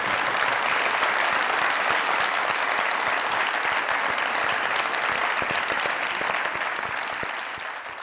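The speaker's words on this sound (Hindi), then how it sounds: "अब जरा ताली बजाएं उस शख्स की मेहनत के लिए।" Studio audience applause on a Pakistani comedy talk show, a dense, sustained round of clapping from a large crowd that holds steady for several seconds before easing off at the end.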